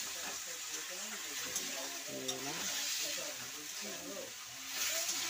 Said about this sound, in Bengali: হালকা জল দিয়ে কষে নিচ্ছি, এটাকে হালকা জল দিয়ে ভালো করে কষে নিচ্ছি